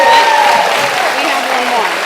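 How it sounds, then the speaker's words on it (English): A school audience at a third-grade awards ceremony claps for the students, giving a loud, dense burst of applause that holds steady and then eases slightly toward the end. "Let's give another round of applause to all our students."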